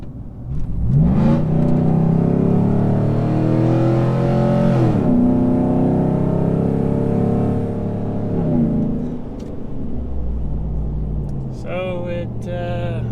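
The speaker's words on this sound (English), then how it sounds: "Try full throttle from this stoplight if we can" A tuned pickup truck with an EFI Live tune pulls away from a stoplight at full throttle, its engine climbing loud and close in a long surging run, easing off, then revving again near the end, with people talking over it.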